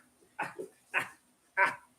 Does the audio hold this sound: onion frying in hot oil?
no